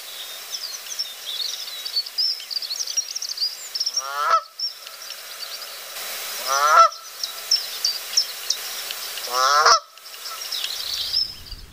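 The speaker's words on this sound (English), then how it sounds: "the Canada goose alerting others of its presence." Canada goose giving three loud, separate honks spaced a few seconds apart, close by, over a steady background of small birds chirping outdoors.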